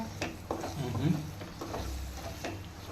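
Carrots for carrot halwa are sautéed in a pan, with a low sizzle under several regular spoon scrapes about every half second. The stirring is close and quiet.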